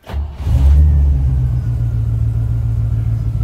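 A 1972 Range Rover engine cranks briefly, catches, and settles into a loud, steady low idle rumble, close by, with no talk.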